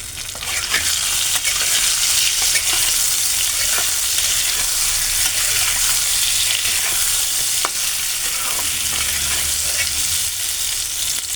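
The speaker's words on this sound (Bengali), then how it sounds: "বেগুন ভাজা হয়ে গেছে" Salted eggplant slices frying in a pan of oil, a loud, continuous close sizzle with intermittent stirring clicks and scrapes, no voices.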